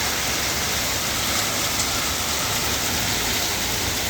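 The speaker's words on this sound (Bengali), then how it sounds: "এখন বৃষ্টি হচ্ছে" Heavy rain pours down steadily after a hailstorm, a dense, loud, even hiss of drops striking surfaces throughout, with no voices.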